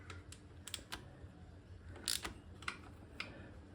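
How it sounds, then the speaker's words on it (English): Faint, irregular clicking from inside the engine of a 2002 Yamaha YZ250F during a top end rebuild; about a dozen light, sharp ticks scattered over a quiet background. "Something clicking in there."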